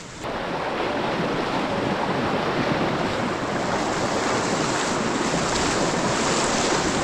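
A hill river in the rainy season rushes past in full flood, making a loud, dense, unbroken roar of water with wind buffeting the mic throughout.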